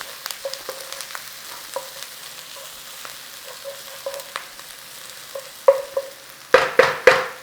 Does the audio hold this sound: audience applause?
no